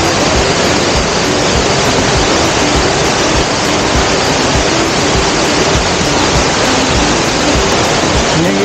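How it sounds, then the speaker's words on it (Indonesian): The waterfall on the Sungai Mudal river near Yogyakarta roars as a loud, steady, unbroken rush of falling water that fills the whole clip, with no voices. "air terjun dari Sungai Mudal guys"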